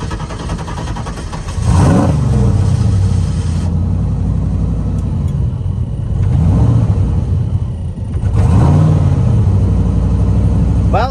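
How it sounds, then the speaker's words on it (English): Car engine turning over and catching, then settling into a steady rumbling idle with a couple of surging revs, loud and close, with no talking. "Well, it starts, it idles a little bit better."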